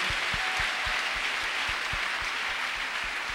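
A church congregation at a French-language service applauds and acclaims the Lord, a steady wash of crowd clapping and noise carried over regular low thumping beats.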